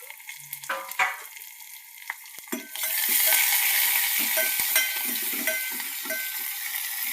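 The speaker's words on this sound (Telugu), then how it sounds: "ఇప్పుడు తాలింపు దినుసులు వేసుకుందామండి" Tempering spices are dropped into hot oil in a pot for tangy rasam and burst into a loud, steady sizzle, with light clinks and stirring knocks at the start before the frying swells.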